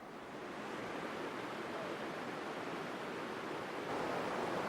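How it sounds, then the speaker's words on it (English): River rapids and white water rushing over boulders, a steady broad roar of turbulent flowing water, close and constant with no voices. "Down here we have boulders, speed and rapids."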